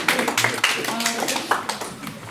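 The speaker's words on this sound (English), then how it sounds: "Lots of claps." Audience at a debate on organised religion and women breaks into clapping, a brief cluster of claps and taps mixed with crowd voices and some speech.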